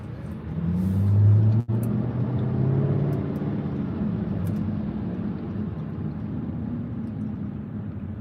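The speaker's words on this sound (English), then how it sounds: "If you see traffic like this in LA, let me know." Road traffic passes through Los Angeles at 1 a.m., a car whooshing by up close early on, then a continuous wash of vehicle noise and distant motor hum.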